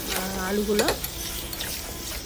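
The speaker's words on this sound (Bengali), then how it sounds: "আমি আলুটাকে মাংসের জন্য ফ্রাই করে নেব আজকে" Potato pieces frying in hot oil for a meat curry, a soft steady sizzle with a few utensil scrapes and stirring clinks, briefly overlaid by a tonal sound early on.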